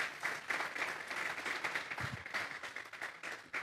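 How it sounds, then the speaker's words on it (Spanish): Church congregation gives steady applause during a Spanish-language sermon, a dense, continuous clapping that fills the room without speech over it. "Démosle un fuerte aplauso pues al Señor."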